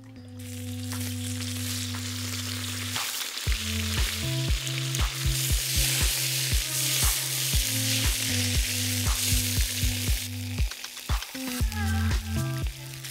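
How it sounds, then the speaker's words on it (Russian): Lagman ingredients frying in oil in a kazan over an outdoor campfire, a loud steady sizzle with bursts of crackling and stirring clatter throughout, close up and without voices. "Пошли жарить."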